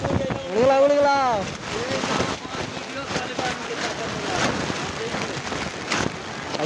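Heavy rain pours over a local village market in Jharkhand, a steady broadband hiss and patter filling the whole stretch while a voice talks briefly near the start.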